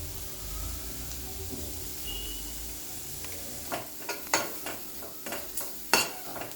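Beans thoran with turmeric being stirred in a pan on the stove: a low steady sizzle, then a run of distinct scraping, clinking spoon strokes against the pan, close and fairly clear, no voices.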